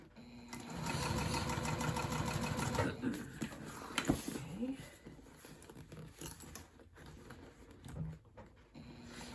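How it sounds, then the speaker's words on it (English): A sewing machine stitching a tote bag, a rapid mechanical whirring run for the first few seconds, then slower bursts and pauses with a brief hum near the end, under occasional quiet talking. "Make sure you don't sew over your handles like I almost just did"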